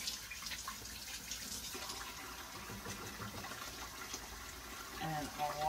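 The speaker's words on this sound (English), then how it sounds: "So I'm gonna wash off my celery." Kitchen tap running water over celery while washing vegetables for chicken noodle soup, a steady close rushing flow with splashing that grows slightly louder toward the end.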